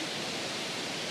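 A 28-metre waterfall at Plitvice Lakes, heard as a steady, dense roar of falling water mixed with wind, broad and unbroken from start to end, no talk.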